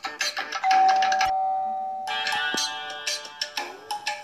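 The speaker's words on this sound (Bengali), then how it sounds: "কলিং বেল বেজে উঠতেই" A doorbell rings clearly in a home, a bright sustained chime that rises over a busy background and fades, with other household sounds continuing around it.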